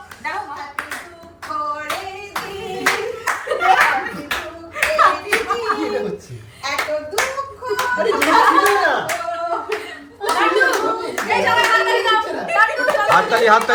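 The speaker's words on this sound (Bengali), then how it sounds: "সবাই হাততালি দাও।" A group claps for a casual cake cutting at a home gathering, bursts of applause rising and falling over about fourteen seconds, mixed with chatter and light laughter nearby.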